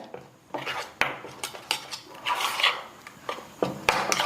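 A spoon clinks and scrapes around a bowl of idli batter for cassava bondas in quick, irregular strokes, close and fairly quiet, with no voices.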